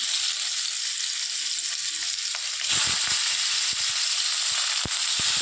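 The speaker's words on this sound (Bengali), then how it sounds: "এবার মাছটাকে তেলের মধ্যে দিয়ে দেব।" Fish coated with salt and turmeric sizzles steadily in hot oil, a loud continuous hiss that surges and brightens partway through, with scattered pops and crackles close by and no talking.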